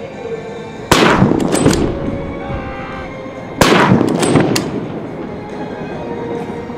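Two sharp, loud shots from an M24 SWS sniper rifle at a Japan Ground Self-Defense Force combat training demonstration at Kanazawa garrison in Ishikawa, each followed by a long echoing decay over outdoor background noise.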